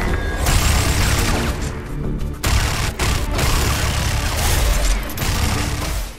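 Typhoon rifle from the video game Crysis 3, an extremely fast-firing weapon, unleashes a dense, continuous roar of gunfire with a few brief gaps, loud and up close, with explosive crashes mixed in.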